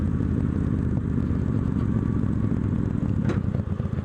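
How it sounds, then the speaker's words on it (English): A Victory Judge motorcycle rumbles under engine compression braking, a loud, steady low-pitched drone with a mechanical clatter and a brief sharper click near the end, no speech. "Golly, this compression braking is something else."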